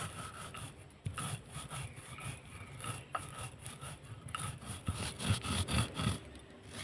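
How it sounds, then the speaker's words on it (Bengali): Amla (Indian gooseberry) being coarsely ground on a grinding stone, a steady rough scraping and rubbing that repeats in uneven strokes, close and moderately loud, with no talking. "একটু দানা দানা ভাব করে বেটে নেব।"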